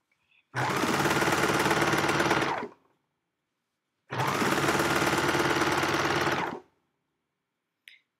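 Serger overlocker trimming and stitching fabric edges, two loud, even runs of rapid mechanical whirring, each lasting about two seconds with a pause between, then a brief click at the end.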